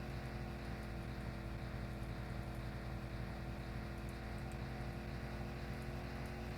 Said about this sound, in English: This engine's gonna give in one day.